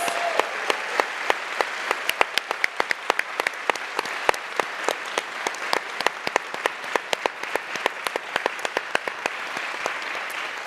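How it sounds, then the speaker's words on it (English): Crowd at a realtors' gubernatorial candidate forum gives a sustained round of applause, a dense continuous clatter of many hands with sharp individual claps popping out near the microphone, steady and fairly loud for the whole stretch, no speech. "Can we give them another round of applause?"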